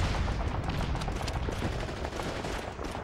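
Continuous gunfire in Call of Duty 2: Big Red One on PS2, with rapid rifle and machine-gun shots cracking over one another in a dense, sustained stream of battle noise.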